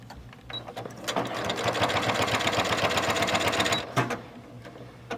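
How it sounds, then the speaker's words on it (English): Sewing machine stitching a bag seam, a steady fast mechanical whir that starts at about one second, runs evenly for roughly three seconds and then stops, with a brief click afterward. "I don't have to lock the stitch because I'm going to be sewing this into a seam"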